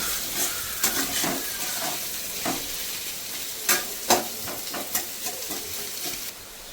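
Onion frying in oil in a pan for Bengali morola fish curry, a steady close sizzle with scattered sharp crackles and stirring scrapes throughout, no talk.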